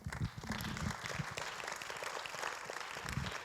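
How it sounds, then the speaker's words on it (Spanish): A church congregation applauding during a worship service, a fairly faint, uneven patter of clapping mixed with some low murmuring from the room. "Dale un aplauso al Señor."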